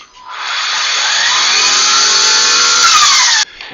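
Ryobi brush cutter from the Expand It attachment series running at a steady, loud, high-pitched motor whine for about three seconds before cutting off abruptly.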